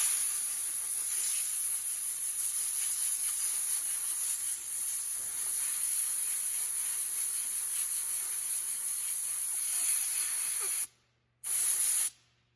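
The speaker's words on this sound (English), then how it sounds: "just take a blow nozzle, make sure you hold the bearing like this so that it doesn't spin in your hands, and then just blow out all that solvent" A compressed-air blow nozzle blasts solvent and leftover grease out of a wheel bearing held still by hand: a loud, steady, broadband hiss lasting about eleven seconds, then a brief pause and a short second burst.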